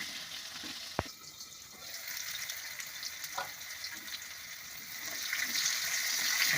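Magur catfish coated with salt and turmeric fries in hot oil with a soft, steady sizzle, a sharp clack near the start, and the crackle building louder toward the end.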